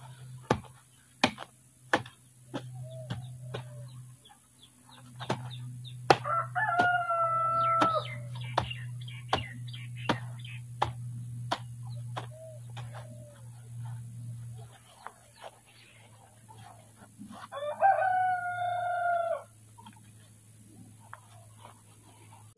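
Small chicks and chickens loose in a backyard garden plot, with repeated sharp peeping calls and a couple of louder clucking bursts close by, over a steady low engine-like hum and sharp knocking taps.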